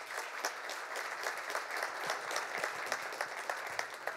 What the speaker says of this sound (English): Please, let's keep the applause going